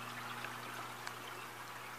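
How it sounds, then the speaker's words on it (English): Water trickles steadily through the PVC pipes of a quiet indoor vertical hydroponic system, a soft continuous flow with a low hum beneath it and no talking. "Mainly, you can just hear the water going through,"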